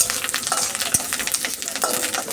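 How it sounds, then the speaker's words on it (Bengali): Chopped onion frying in hot oil with curry leaves, a steady crackling sizzle with soft stirring scrapes, close and continuous with no voices. "পেঁয়াজ কুচিটাকে ভালো করে ভাজা ভাজা করছি"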